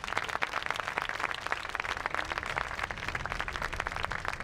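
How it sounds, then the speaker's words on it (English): A round of applause from a crowd at an outdoor National Day of Peace ceremony, a dense, steady patter of clapping heard from a moderate distance, continuous and fairly faint, without speech. "shall we give a round of applause"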